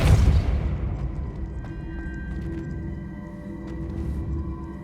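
Casting the Depulso spell in Hogwarts Legacy sets off a single loud, deep boom that blasts at the very start and then fades into a low, rumbling ambient hum.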